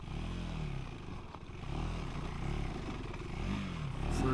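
A 2025 KTM 390 Enduro R ridden along a steep singletrack trail, its single-cylinder engine droning loud and close with rising and falling revs, while chassis clatter and scrapes sound over the rough ground.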